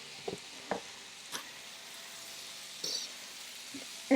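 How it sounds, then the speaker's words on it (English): Shrimp with their juice go into a pan of sausage, giving a low steady sizzle under a few sharp clinks and knocks of utensils against the pan, heard fairly close and without talk. "What I am going to do now is add my shrimps in with all the juice."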